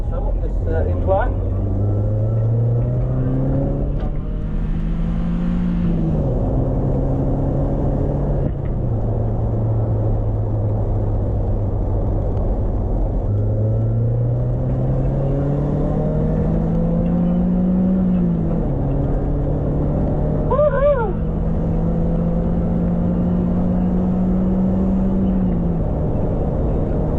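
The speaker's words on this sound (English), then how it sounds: "Revs like crazy, the K series engine." An MGF VVC sports car with a K series engine climbs an incline, its engine revving up repeatedly through the gears in rising, falling sweeps, with steady road and wind noise underneath and a person talking over it.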